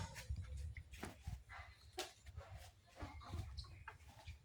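Backyard hens near laying age cluck and murmur in short irregular bursts, several birds nearby at a quiet level, no voices.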